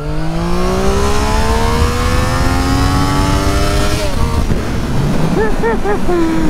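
A Triumph 660 A2 motorcycle pulls away hard in first gear, its engine note climbing steadily in pitch under heavy wind rush, then a quick shift and a burst of rising, chirping revs near the end.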